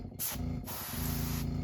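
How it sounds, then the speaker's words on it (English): Paint is sprayed onto a custom fire tiger crankbait fishing lure in two close hissing bursts, a brief one and then a longer, steady one, with no voices. "you're gonna spray it under the bottom"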